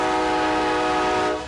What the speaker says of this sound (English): This is a 12-second horn blast from a Union Pacific train passing through Japantown